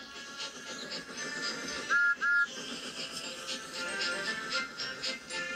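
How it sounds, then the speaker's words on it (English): Two short, bright cartoon steam engine whistle toots sound in quick succession amid a busy, musical background. "Good morning, Percy, he whistled."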